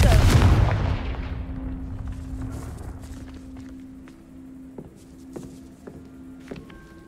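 Confringo fire spell cast in Hogwarts Legacy: a loud, booming blast that opens the clip and decays slowly. Faint footsteps and a low steady hum follow.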